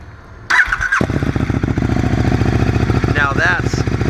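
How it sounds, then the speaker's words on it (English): A KTM 1290 Super Duke with a Remus exhaust starts up and settles into a loud, close, rough idle. The exhaust gives a short, sharp rev near the end. "listen to the Remus can."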